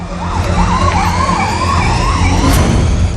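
Police jeep siren wailing in a rising and falling pattern, loud and close over a running engine and road noise, continuous throughout.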